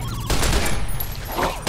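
A heavy-recoil gun firing in a video game set around Vault 34, a continuous rapid volley of loud, close shots with no speech.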